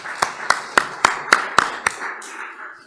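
A few people in a seminar audience give seven slow, evenly spaced claps, sharp and close, then fall silent.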